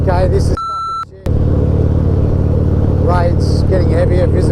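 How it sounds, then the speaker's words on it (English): Engine rumble from road traffic behind a truck in heavy rain fills the scene, with a brief electronic beep and a sharp cutout early on, and a voice speaking over the noise. "Rain's getting heavier, visibility's fucking terrible. I'm stuck behind a bloody truck."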